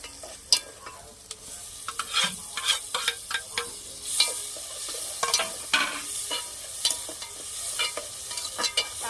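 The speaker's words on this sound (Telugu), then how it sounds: "ఇప్పుడైతే నేను టమాటాలు వేసుకుంటున్నాను." Chopped tomatoes frying in a pan with softened onion and green chili for a gongura dried-prawn curry, a steady sizzle broken by repeated scraping stirs of a spoon, close and clear with no talking.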